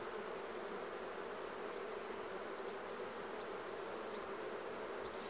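A dense, continuous buzzing of many honeybees at an open hive fills the air, steady and close, with no pauses or voices.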